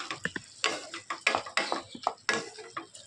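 A bottle gourd curry is stirred in a pot on the stove with a utensil. Close, wet scraping strokes come in an uneven rhythm over a soft simmering hiss, with no talking.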